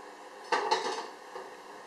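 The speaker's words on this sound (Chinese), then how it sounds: "然后放到蒸锅上面去蒸" Cut potato pieces are placed into a steamer pot in a home kitchen. A few close clinks and knocks of the pieces against the metal pot sound in a short burst, then go quiet.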